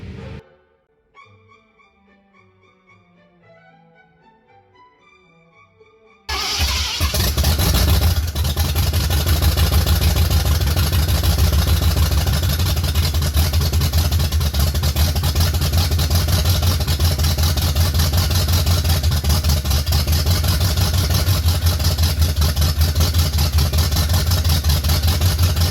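A 1969 Ford Galaxie engine turns over, then catches and runs with a loud, steady rumble that holds close by for the rest of the stretch after a brief quieter lead-in.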